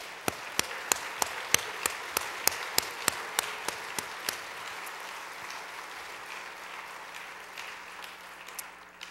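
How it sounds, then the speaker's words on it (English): Applause for first-time attendees at a NASBA annual meeting, beginning with a few loud, evenly spaced claps up close over a spread of crowd clapping that slowly thins out. "would all of the first timers please stand now so that we can see who you are and give you a round of applause"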